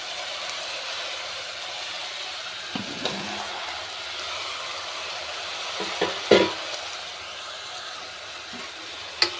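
Eggplant and raw mango sizzle steadily in a hot pan for a Telugu vankaya mamidikaya curry, with several sharp scrapes and clatters of stirring rising above the continuous frying hiss.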